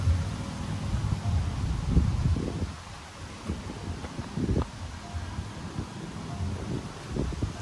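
Strong, gusting wind sweeps through trees at the Buperta Cibubur campground, a continuous close rushing roar that swells and eases, with low buffeting bumps against the microphone and no talking.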